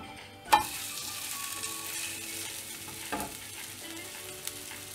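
A ragi roti with drumstick leaves fries in a little oil on a pan. The sizzle is faint and steady, with a sharp clatter near the start and a few light clinks later.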